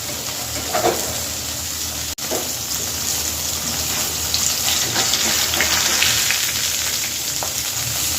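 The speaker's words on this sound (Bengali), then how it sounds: "এখানে তিন পিস মাছ আছে দুইবারে ভাজতে হবে" Steady crackling sizzle of pabda fish frying in hot oil, continuous and close, with a few brief bubbling bursts and no voices.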